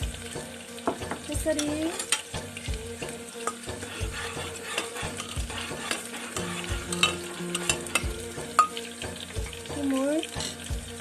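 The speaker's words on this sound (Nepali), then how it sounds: "अब यसमा यो टिमुर पनि पुऱ्याइदिनुहोस्" Timur (Sichuan pepper) fries in oil in a pan for a pumpkin and taro curry, with steady sizzling and repeated scraping stirs, close up, while a voice briefly speaks.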